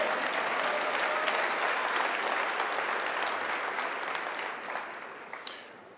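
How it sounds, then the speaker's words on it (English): Sustained audience applause fills a large conference hall during a political speech at a youth conservative convention, a dense wash of clapping that slowly thins and fades toward the end. "Y'all can give that a round of applause."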